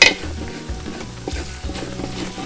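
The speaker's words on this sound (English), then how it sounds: "You're gonna want to constantly scrape that bottom, because what you don't want is it to build up on the bottom and burn your roux." A spoon scrapes and stirs roux in a pot for duck gumbo: repeated rhythmic scraping strokes over a steady sizzle, close and fairly loud, with a sharp clink at the start.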